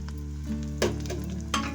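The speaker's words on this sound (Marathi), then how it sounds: "इथे आपण आता टमाटर टाकून घेऊया" Tomatoes hitting hot oil with browned onions while cooking bitter gourd, a steady close sizzle with a few louder bursts of crackle and stirring, no voices.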